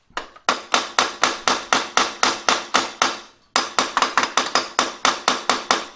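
Rapid, steady hammer blows on metal while setting a rivet nut, about three per second, with a brief pause midway before the striking resumes, close and loud.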